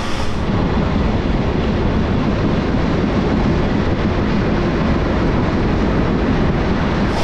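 Loud, continuous roar of the Rupshi Bangla Express passing Sreenagar railway station in Munshiganj, Bangladesh, a dense steady rush that stays even from start to finish with no talking.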